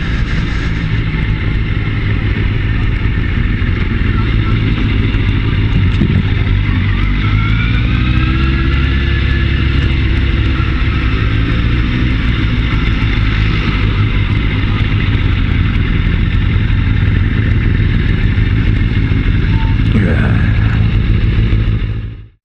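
Continuous loud engine drone of many motorcycles passing nearby, with revving pitch changes over a dense traffic roar, no talking.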